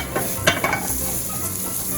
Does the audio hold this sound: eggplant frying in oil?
yes